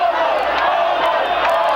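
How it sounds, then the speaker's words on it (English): A crowd of fans at a 1990 New Jersey high school hockey game in an arena roars and cheers in a loud, sustained wash, with scattered whoops rising above the dense noise. "And now the fans getting into it a little bit. We have a great crowd on hand here."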